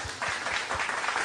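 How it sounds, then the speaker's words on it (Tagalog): A church congregation at a City of Hope anniversary service breaks into a loud, dense burst of clapping that fills the whole moment. "Isang malakas na palakpak sa Panginoon"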